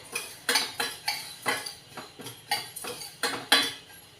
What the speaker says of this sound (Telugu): ధనియాలు కొంచెం వేగేయండి.